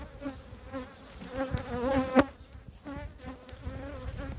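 Honeybees buzz around a beehive during hive reduction and formic acid treatment, a close wavering drone with bees passing near and loud, then easing back over a steady background hum.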